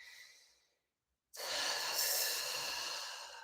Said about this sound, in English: all your air is going to be escaping, and it sounds like this.